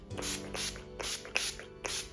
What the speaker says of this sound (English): I'm just gonna add some setting spray to set it all down